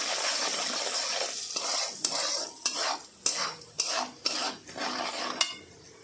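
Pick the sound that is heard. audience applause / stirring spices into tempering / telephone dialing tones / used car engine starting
stirring spices into tempering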